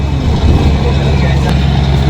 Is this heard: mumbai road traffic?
yes